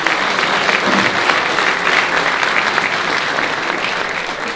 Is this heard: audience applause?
yes